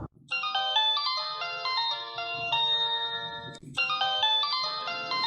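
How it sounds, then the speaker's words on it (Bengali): A mobile phone rings with a bright electronic melody, loud and close, breaking off briefly before the tune starts again. "কিরে তোর ফোন পাচ্ছে ফোন ধরস না"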